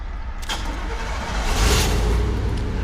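An old car with a V8 and a patched exhaust leak cranks and catches, settling into a loud, rough, rumbling idle that swells briefly as it fires.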